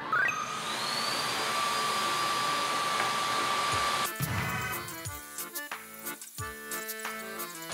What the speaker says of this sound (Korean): 충전된 청소기들을 풀파워로 작동했을 때